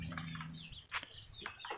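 Chickens in a small hut-like backyard coop let out a few short clucks and chirps close by, in brief uneven bursts over a low background hum.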